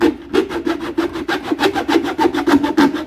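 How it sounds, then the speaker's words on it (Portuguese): Hand saw cutting through wood while building a toolbox, with steady rhythmic rasping strokes close by, about a dozen back-and-forth passes in quick succession, loud and alone. "Como tá mais funda, vamos usar aqui a serra"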